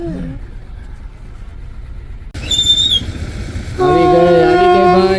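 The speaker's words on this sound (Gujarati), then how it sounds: "ટ્રેન આપણી આવી ગઈ પ્લેન તો ન આવ્યું ટ્રેન આવી" A small train passes by with horn or whistle-like tonal blasts rising over a steady rumble, growing louder midway and holding strong to the end; a voice is faintly heard early on.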